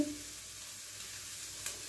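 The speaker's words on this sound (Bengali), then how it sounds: "এখন চিংড়ি মাছগুলো ভাজছি।" Prawns fry in a pan with a soft, steady sizzle, quiet and close, with a brief stir near the end and no voices.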